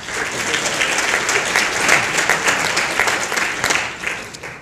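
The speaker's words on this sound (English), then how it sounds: "let's have another round of applause for those employees' 5-year awards" Audience applauding at an employee service awards event, a dense, steady burst of many hands clapping that swells and then tapers off near the end.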